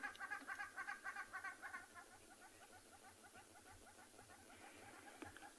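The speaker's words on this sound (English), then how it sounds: "we can hear some hornbills calling over to the left" Hornbills call at a dam on a South African morning safari, a distant run of rapid repeated hoots, loudest at first and then fading into soft background, with other faint bird notes and no talking.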